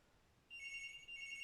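A home telephone starts ringing, a bright electronic trill with a brief pause before it rings again, moderately close in a quiet room.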